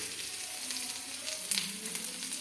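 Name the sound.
chopped onion frying with mustard seeds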